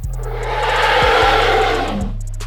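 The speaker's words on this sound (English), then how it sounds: "Next, let's hear the sound effects, starting with the roar." A Pachycephalosaurus roar from the Dinosaur Simulator video game, a loud, rough, breathy bellow about two seconds long, swelling in the middle and fading, heard alone over a low droning background tone.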